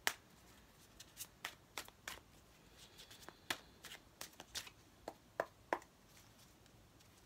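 A Modern Witch tarot deck is shuffled by hand in a quiet room, giving soft, irregular card slaps and riffling flicks spaced every fraction of a second, faint and close, with no talking.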